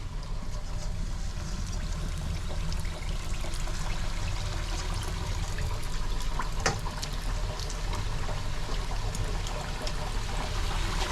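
Chakli dough spirals fry in hot oil for Diwali, a dense, continuous bubbling hiss that stays steady and close for several seconds, with a few faint clicks and no talk.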